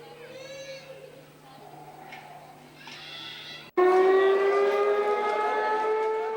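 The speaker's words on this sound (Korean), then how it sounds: "그리고 오후 5시경 사이렌 소리와 함께 하루의 첫 식사를 한다." After a few seconds of quieter wavering tones, a loud civil defense siren marking the end of the daily fast around 5 p.m. abruptly starts and holds a steady rising wail, strong and sustained.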